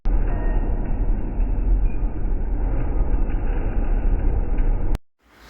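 A steady, heavy low rumble of a train interior, constant rolling noise with no speech, ending in an abrupt cut near the close.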